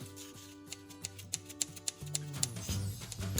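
Scissors snip a small hole in a cardboard toilet paper roll, a quiet series of about a dozen evenly spaced crisp clicks and cuts under a low steady background hum.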